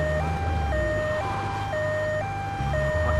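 An ambulance siren in the video game GTA 3 wails in a steady two-tone pattern over a low engine rumble, loud and continuous, with no talking.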